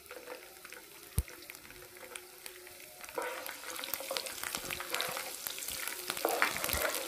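Chopped garlic and cumin seeds frying in oil in a pan while cooking masoor dal, a steady crackling sizzle that grows louder and busier halfway through, with occasional stirring clicks and no voices.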